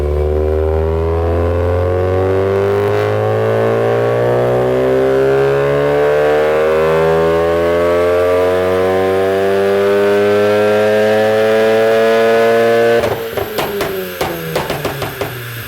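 A Stage 3 tuned VW Golf GTI engine running on a dyno, a loud steady drone that slowly rises in pitch, then drops to a rougher idle with sharp clattering pulses near the end; no talking.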